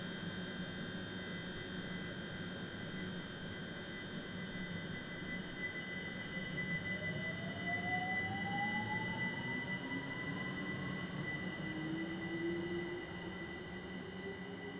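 A Class 387/1 electric train pulls away in Train Simulator, a steady rumbling drone of motors and wheels with a rising whine that climbs in pitch as it gathers speed, loud and continuous throughout.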